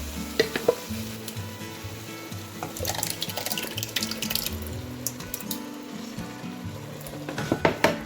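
Onions, peppers and tomatoes cooking together in a pan make a low, steady sizzle, with spoon scrapes and stirring clatter, a few sharp clinks, and louder bursts of stirring near the end, all close and with no talking.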